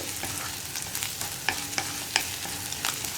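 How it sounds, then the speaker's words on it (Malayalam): Dried red chillies fry in hot oil in a pan for a Kerala muthira (horse gram) dish, giving a quiet, steady sizzle broken by a few sharp crackles and stirring clicks, with no voices. "ഇനി മുളകും കൂടി കുക്കാവട്ടെ."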